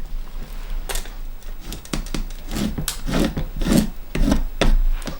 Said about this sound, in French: je vais tracer une ligne